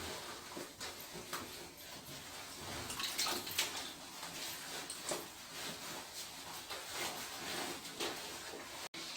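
A stretchy zentai suit being hand-washed and agitated in a basin of soapy water, with continuous sloshing and splashing that rises and falls in steady bursts, close and fairly loud, with no talking.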